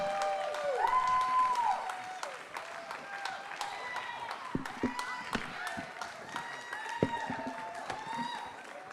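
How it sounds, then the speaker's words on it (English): Audience clapping at a men's panel event as guests walk on stage, with scattered claps under a steady murmur of voices. "Clap, clap, clap, clap, clap"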